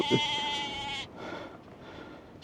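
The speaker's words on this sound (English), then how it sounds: "we've got a sheep come up to see us" A sheep bleats close by in one loud, wavering call that lasts about a second, followed by quiet outdoor background.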